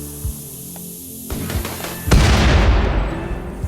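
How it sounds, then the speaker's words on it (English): Colonists in RimWorld fire on an auto turret and blow it up: a few sharp scattered shots, then a loud booming blast that rumbles and fades over the last second and a half. "The colonists fire upon an auto turret and destroy it."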